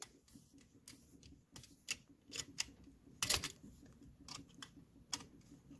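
Faint small clicks and scrapes of a screwdriver tightening a terminal screw on a GFCI receptacle, close and quiet, in irregular bursts with no talk.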